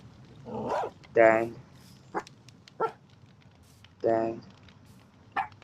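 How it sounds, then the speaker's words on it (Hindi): Tame dogs in the Minecraft video game, one big and the rest small puppies, bark in several short yips and woofs spread over a few seconds, with a person talking between them. "अभी एक ही बड़ा कुत्ता है हमारे पास, बाकी सारे छोटे कुत्ते हैं।"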